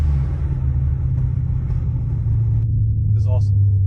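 A 1967 Pontiac Firebird with a 400 big-block V8 rumbles deep and steady while driving on the street. A brief voice is heard near the end.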